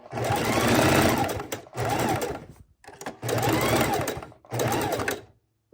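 A sewing machine stitches a raw-edge appliqué window panel in short back-and-forth bursts, four loud runs of rapid needle chatter separated by brief pauses, close and alone.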